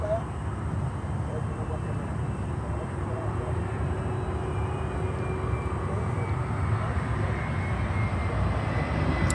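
Boeing 737-400 airliner at Miami airport, a moderately distant, steady jet rumble with a faint whine drifting across, continuous and fairly quiet, with talk over it.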